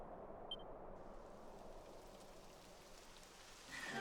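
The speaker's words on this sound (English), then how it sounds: "Oh no, it's raining!" Steady rain falling in the video game Dragon Quest XI, a soft continuous hiss at low volume with a brief chime near the start and a brighter swell at the end.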